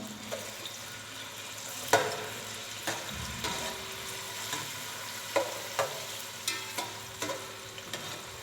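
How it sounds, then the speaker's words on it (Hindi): Chopped onions sizzle and brown in a pan, a soft steady frying hiss broken by occasional sharp clinks and scrapes of stirring, close and fairly quiet. "प्याज को हम ब्राउन करने लगे हैं।"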